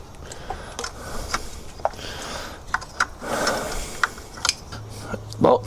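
Bolts being refitted on a Mitsubishi Lancer CE, heard as a close series of irregular ratchet clicks, metallic taps and clinks with short pauses between them, ending in a couple of louder knocks.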